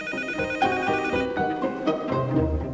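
A telephone bell rings indoors in a drama scene, a bright repeated electronic trill that is fairly loud and heard alone without speech.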